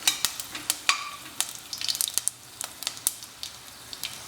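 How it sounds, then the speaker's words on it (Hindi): Dry ginger and whole spices fry in hot oil in a pan for a chicken curry, a steady crackle with many sharp pops and sizzles at close range and no voices. "अब इन्हें हल्के से 2 मिनट के लिए फ्राई कर लेंगे। ये बढ़िया फ्राई हो रहे हैं।"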